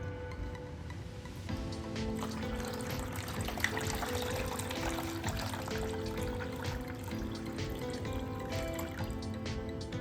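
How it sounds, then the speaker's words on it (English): Water pours steadily and gently into a container holding coral frags, a continuous soft trickling and splashing that stays even in level throughout, with no talk. "let's get some water in there"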